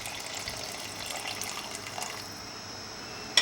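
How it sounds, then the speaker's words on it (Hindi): About 750 ml of hot water poured into a pressure cooker holding a kilo of mutton for Saoji mutton curry, a steady close gushing stream lasting a little over two seconds before stopping, followed by a brief clink. "ये हमारे पास गर्म पानी है, लगभग 750 ml पानी है।"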